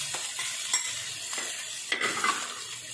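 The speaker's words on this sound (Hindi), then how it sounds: "चिकन को हम हल्का सा फ्राई करेंगे।" Boiled chicken frying lightly in a pan with carrots, a steady soft sizzle broken by a few scraping stirs of a spatula against the pan, fairly close and without talk.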